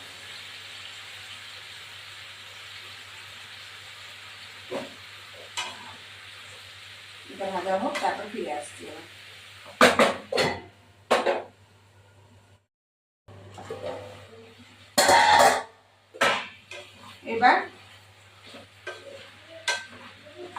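Young jackfruit frying with salt in a pan, a steady sizzling hiss broken by several loud scraping stirs of a spatula toward the end, with a voice talking briefly in between.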